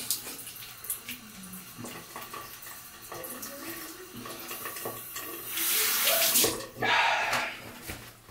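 A straight razor is rinsed under a running tap during a shave, steady splashing water with small clinks that swell into a louder gush near the end, close and without talk.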